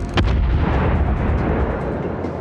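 Warship guns firing in the naval battle game World of Warships: a single heavy, booming cannon blast followed by a long rumbling roar that fills the clip, loud and close, with no talking.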